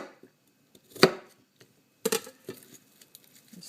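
A kitchen knife cutting an onion into quarters for a chuck roast dinner, a few sharp, sparse knocks against a cutting board with quiet gaps between them, close and fairly faint.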